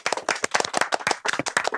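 An audience at a livestreamed Peking opera performance at a temple in Shanxi claps in a dense, steady burst of applause, close and lively, with no talk over it.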